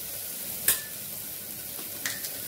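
Turmeric, ground coriander-cumin, green chili and black masala stirred in a pan for broken-wheat khichdi, a faint steady sizzle with a few sharp utensil clicks against the pan.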